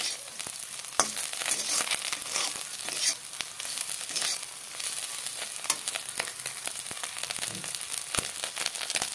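Small fish fry in oil with onion and green chilli, a busy, close crackling sizzle punctuated by sharp pops and clicks throughout.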